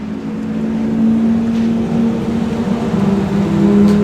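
Classic sports car engine, a 2.8 litre unit with triple Weber carburetors, idling with a steady loud low drone and a faint tonal hum, holding even throughout with no talking.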